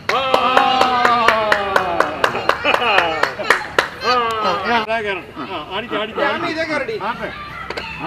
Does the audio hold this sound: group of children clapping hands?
yes